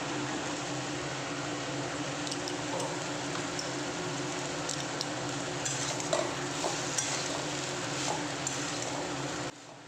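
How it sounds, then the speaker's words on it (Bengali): Drumstick vegetables cooked with ginger paste fry in a pan with a steady soft sizzle, with occasional light scrapes of stirring and a faint fan-like hum underneath, close and quiet, with no voices. "আমি আদা বাটাটা দিয়ে দিলাম দিয়ে এখন ভালো করে আমি কষাতে থাকবো"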